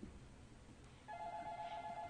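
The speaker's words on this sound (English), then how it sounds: "You going to answer that phone?" A telephone begins to ring partway through, a steady electronic trill starting abruptly over quiet room tone, fairly faint and with no talking.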